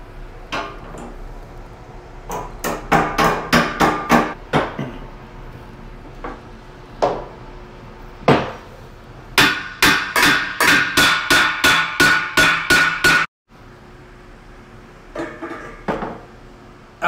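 Hammer blows on metal and wood while a worker pulls apart a part during a smelly repair job, struck in loud, sharp bursts of rapid repeated hits with short pauses between groups, close to the listener.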